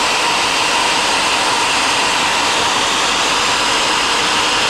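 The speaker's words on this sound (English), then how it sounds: "Cutting my weld now." A weld is cut on the arm end of a Bobcat T200 skid steer, making a loud, steady, roaring hiss that holds unbroken from start to finish.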